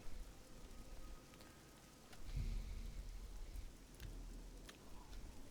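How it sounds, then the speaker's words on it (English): Steady rain from the Elder Scrolls IV: Oblivion game world, a soft continuous hiss of drizzle at low level, with a slightly heavier swell partway through and faint distant rumbles. "We are destined for drizzle."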